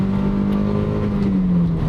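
Toyota MR2 mk3 engine pulling hard in second gear on the road, a loud, steady harmonic drone that holds close and constant for two seconds, its pitch rising slightly then easing near the end, with no talk over it.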